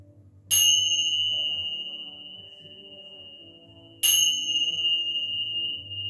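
Two bright bell strikes close the yoga session, each a clear metallic ring that sustains and slowly fades, the second about three and a half seconds after the first.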